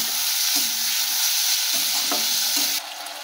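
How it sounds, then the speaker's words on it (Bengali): Ginger-garlic paste and chilli masala fry in oil, giving a close, continuous sizzle with a handful of spoon scrapes and taps as the mixture is stirred, softening just before the end. "দিয়ে এটাকে ভালো করে আগে কষিয়ে নিতে হবে, যাতে আদা রসুনের কাঁচা গন্ধটা চলে যায়।"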